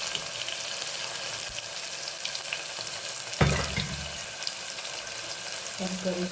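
Cumin, asafoetida and tomatoes going into hot oil with mustard seeds in a pan, a continuous sizzle with a sudden louder burst of frying partway through, then steady spitting; no one talks.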